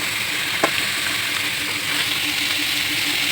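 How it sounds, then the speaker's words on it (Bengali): Spices fry in hot oil for a potato and pointed gourd curry, a steady close sizzle that holds at an even level, broken by one faint clink early on. "দেখো বন্ধুরা মশলা ভাজা হয়ে গেছে"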